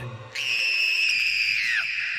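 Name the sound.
girl's scream echoing in the woods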